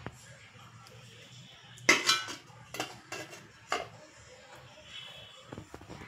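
Metal cooking pots are stacked and set down in a kitchen, making sharp clanks and clinks at irregular intervals over a quiet background, with softer scraping and knocking between the louder hits.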